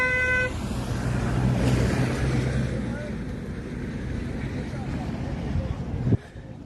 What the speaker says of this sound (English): it is a holiday with quite some cars on the road actually